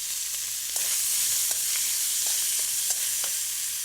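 Beef stir-frying in a wok with coarsely chopped fresh orange peel and seasoning, a steady close sizzle with faint scrapes and clinks of stirring running throughout, no voices.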